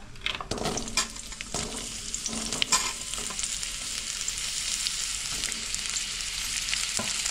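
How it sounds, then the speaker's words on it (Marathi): Onion frying in a pan with a ladle of oil while making paneer masala, a steady loud sizzle with stirring scrapes and clinks throughout, no talk. "आता आपण पहिला काही कांदा भाजून घेऊया"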